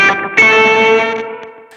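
Synesthesia guitar effects pedal producing a bit-crushed octave distortion, a sustained harmonically dense tone with a short attack that swells after a brief dip, holds steadily, then fades with a small flick at the end, heard alone.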